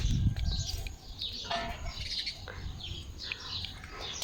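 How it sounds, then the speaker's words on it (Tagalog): Several birds chirp and call in overlapping bursts throughout, high and fairly busy, with low rumbling background noise at the start. "So, may mga ibon dito. Ang daming ibon. Ang ingay-ingay."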